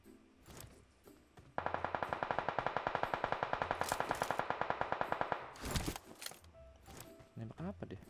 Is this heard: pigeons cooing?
no